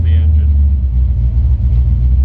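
Close, steady low idle from a 1928 Ford Model A roadster street rod engine with EFI, a continuous deep rumble throughout with a brief higher whine at the very start.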